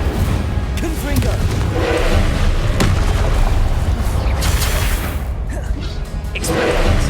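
Incendio and Confringo spell blasts in Hogwarts Legacy cast in rapid succession, loud booming impacts and whooshes layered over dense game noise and music, continuous throughout.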